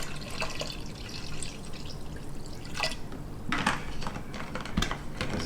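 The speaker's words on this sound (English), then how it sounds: "I'll pour a part of this out and then shake it up." Peach pie moonshine poured out of a glass jar, then the jar shaken, giving faint liquid trickles and a few sharp sloshing clinks with no talking.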